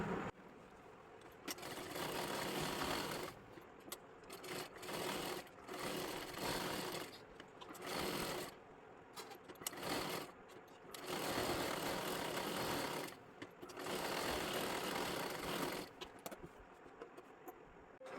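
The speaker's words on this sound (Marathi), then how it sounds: "इथे पाठीमागच्या बाजूला सुद्धा व्यवस्थित शिलाई मारून घ्यायची आहे" A sewing machine stitches a blouse in repeated bursts of rapid mechanical whirring, each run lasting a few seconds and separated by short pauses, close and alone.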